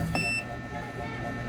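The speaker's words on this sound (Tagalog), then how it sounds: "Itong pag-beep niya ngayon" A solar toroidal inverter with a graphical settings menu gives one short electronic beep at the start, followed by a faint steady hum with low background voices.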